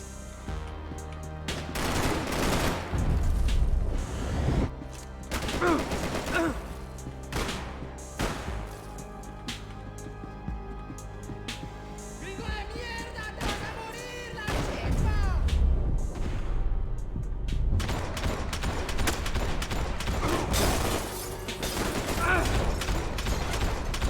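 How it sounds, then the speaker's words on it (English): Rapid automatic pistol fire in Max Payne 3, dense bursts of shots cracking over game music and effects, repeated through the stretch with brief lulls, loud and close. "It took me a minute to realize this was like an automatic pistol."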